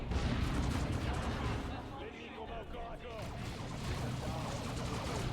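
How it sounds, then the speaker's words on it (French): Dawn of War 2 combat fills the scene with dense, continuous rumbling gunfire and explosion-like blasts, loud and chaotic, with voices mixed underneath. "Je vais leur foutre une grenade."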